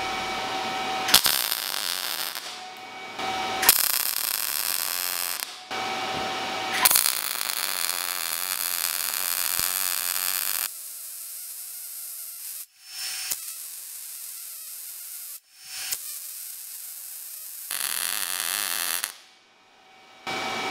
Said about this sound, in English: I'm going to weld some thicker stuff now